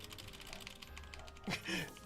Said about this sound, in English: You just hear my keyboard go clickety-clack.